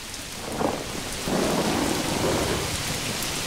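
Thunder in the medieval city-building game Manor Lords, a deep rolling rumble that swells and lingers over steady rain pattering on surfaces, fairly loud with no voices.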